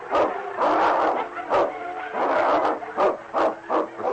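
A large dog snarls and growls in a radio drama sound effect, with a rapid run of close, loud, choppy growling bursts and yips and no talk over it.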